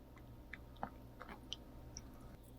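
A pet chews a probiotic treat at close range, with soft irregular crunching and biting sounds over a quiet room background.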